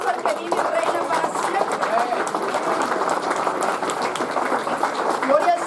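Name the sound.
congregation applause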